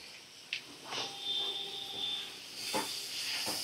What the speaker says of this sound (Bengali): হলুদ গুঁড়ো আর নুন ভালো করে আমি ঝিঙে আর আলুর সাথে মিশিয়ে আরেকটু ভাজা করে নেব।